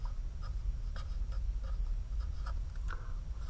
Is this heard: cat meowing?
no